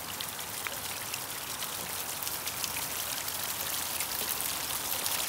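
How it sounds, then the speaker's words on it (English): Water pouring steadily from a basalt stone fountain built of columns, flowing over the back block in a continuous close splashing rush with no pauses. "You can see there in the back where the water's coming out and flowing over that back basalt."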